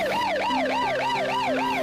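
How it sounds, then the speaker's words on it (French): An ambulance siren at an accident scene, a loud, close, rapid wailing tone that rises and falls in quick regular cycles, about four per second, with no other sound. "l'ambulance évacue les autres accidentés"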